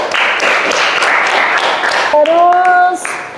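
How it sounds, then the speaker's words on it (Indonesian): Students applaud in a classroom, a couple of seconds of close, brisk clapping before voices take over. "Tepuk tangan Mbak Faris."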